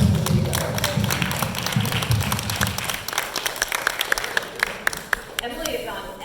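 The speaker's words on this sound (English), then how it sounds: "applause for Emily and Maya for putting this activity together." Audience applause at a Sunday Assembly community gathering: dense, steady clapping from a crowd that fills the whole stretch, with some murmuring mixed in and a slight thinning toward the end.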